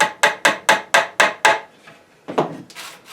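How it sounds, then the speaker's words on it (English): A hammer taps small veneer pins into a wooden picture frame: six quick, evenly spaced, sharp knocks close by, a short pause, then two or three lighter taps, with no talk. "So what I do is just to put these little veneer pins"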